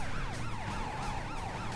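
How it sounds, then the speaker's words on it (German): A wailing police car siren from the video game Driver 3 sweeps up and down in rapid repeating cycles, loud and close over a steady low engine drone. "schnappen wir uns hier den Polizeiwagen, machen die Sirene an"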